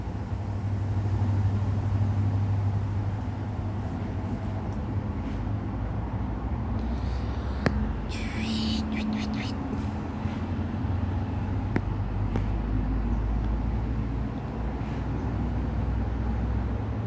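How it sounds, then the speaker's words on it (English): Cars pass by, heard from a back patio as a continuous, moderate road rumble with gentle swells, a couple of brief chirps and clicks briefly rising over the hum, and no talk. "I'm outside sitting on the back patio. That's why you guys can hear cars."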